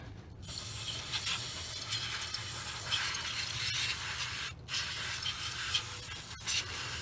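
A steady aerosol spray hisses close by into the throttle body of a 2000-2005 Chevrolet Impala 3400 engine, in several long bursts with brief pauses between them and a low mechanical rumble underneath.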